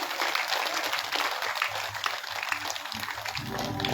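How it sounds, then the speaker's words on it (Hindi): A dense, continuous clapping of a seated audience at a Hindu religious discourse on the Bhagavata Purana, filling the whole stretch at steady loudness with a faint low tonal hum beneath. "ताली बजवा लो एक बार।"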